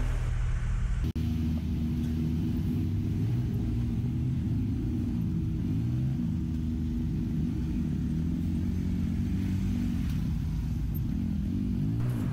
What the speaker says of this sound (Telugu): నెల్లూరు సిటీకి అయితే ఎంటర్ అయిపోయాం అనమాట సో వచ్చిన కొంచెం ట్రాఫిక్గా ఉంది